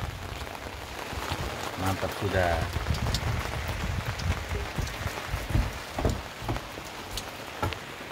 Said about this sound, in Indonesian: seninya naik perahu, hujan bocor